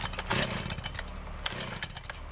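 Small chainsaw engine idling in freezing 7°F weather, a rough burbling putter with uneven pulses, moderately loud and close, alone without speech.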